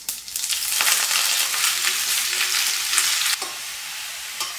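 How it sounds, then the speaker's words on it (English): Courgette sautéing in a pan of oil with mustard seeds and curry leaves, giving a steady close sizzle with occasional stirring scrapes, no voices. "in a pan with oil, mustard seeds, curry leaves, I saute the courgette until they are softened"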